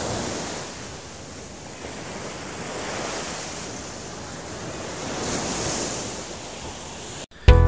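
Surf rolling onto a white sand beach at sunset, a steady broad wash of breaking waves with gentle swells in intensity, no voices, ending in a brief abrupt cut.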